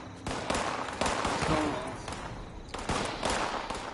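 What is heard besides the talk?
gunshots from raiders in video game Fallout 76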